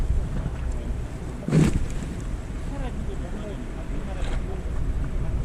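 Strong wind at sea during a fishing trip off Ulleungdo, a constant rumbling buffet across the microphone with a louder gust in the middle, while people talk underneath.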